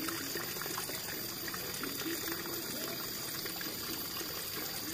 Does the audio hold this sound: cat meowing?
no